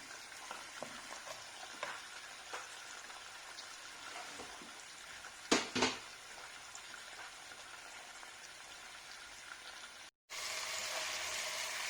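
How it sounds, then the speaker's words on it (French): Chicken drumsticks frying in a pan with onions, spices and salt, a soft steady sizzle with occasional stirring scrapes and one louder burst partway through, quiet and close with no talking. "de faire revenir les pilons avec les oignons et les épices et le sel"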